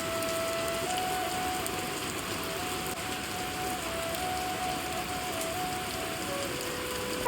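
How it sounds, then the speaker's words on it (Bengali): Steady rain falls close by in a continuous, even wash of patter, with no talking over it. "একদিকে বৃষ্টি হচ্ছে"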